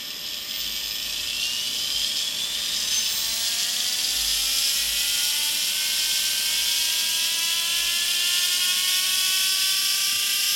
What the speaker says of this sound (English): You've heard the motor slow down.